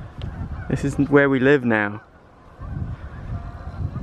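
Several geese honk loudly in a rapid, overlapping burst at Fleet Country Park, with people talking just before the calls and faint outdoor rumble afterward.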